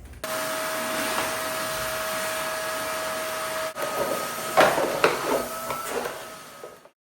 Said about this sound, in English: I'm gonna start by giving the cabinet and the drawers a good vacuuming, and I'm using an old vacuum